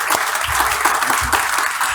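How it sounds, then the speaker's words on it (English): Audience applause at a furniture industry conference, a loud, continuous wash of many hands clapping close by, with no talking over it. "give him a rock star applause"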